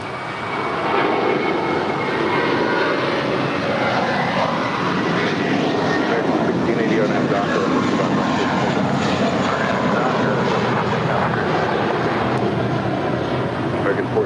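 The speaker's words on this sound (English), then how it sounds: "This departure is American 1423 departing to Boston." An American Airlines jet departing LAX for Boston, a loud, sustained roar of jet engines that builds and holds steadily across the whole stretch, with a broad rushing wash typical of a takeoff heard from nearby at the airport.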